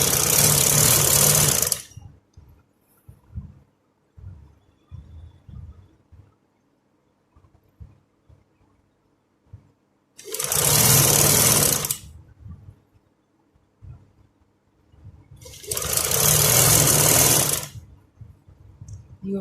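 A sewing machine stitches the shoulder seam of a plain kurti (kamiz) in three loud, close bursts of about two seconds each, separated by quiet stretches with faint handling noises.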